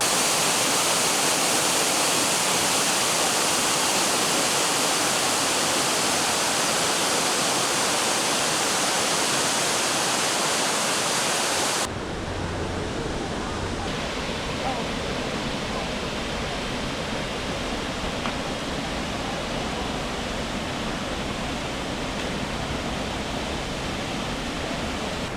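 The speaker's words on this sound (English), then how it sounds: "This is the trail to Bridalveil Falls in Oregon in the Columbia River Gorge." Bridalveil Falls in Oregon's Columbia River Gorge pours in a steady, loud broadband roar that fills the whole stretch, dropping slightly in level partway through as the position shifts along the short trail.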